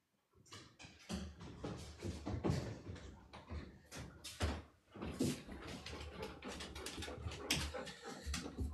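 A dog pants and whimpers close by amid shuffling and rustling, with bumps like a door or cupboard in the background.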